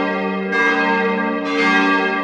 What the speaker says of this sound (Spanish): Las campanas sonaron.